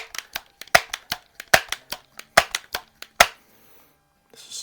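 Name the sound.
pellet air gun shots at a target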